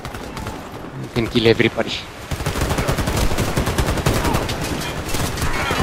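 Rapid submachine gun fire in the shooter game Warface, dense automatic bursts running loud and continuous through most of the stretch, with someone talking over the shooting.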